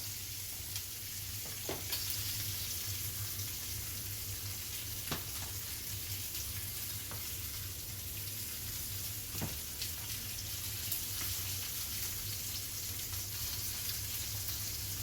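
Lamb loin chops sear in beef tallow in a pan, giving a steady, close sizzle and crackle with a few sharp spits and pops across the whole stretch, with no talking.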